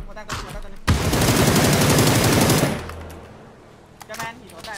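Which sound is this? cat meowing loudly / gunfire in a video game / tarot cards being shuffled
gunfire in a video game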